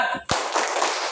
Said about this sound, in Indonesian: Kalau saya bilang tepuk tangan, pok, yes, gitu ya.